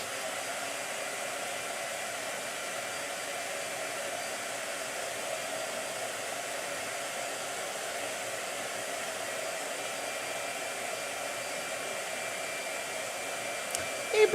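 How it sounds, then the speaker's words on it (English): A hair dryer blows in a steady, continuous whoosh close by, holding an even level throughout with no talking over it. "Blow dryer."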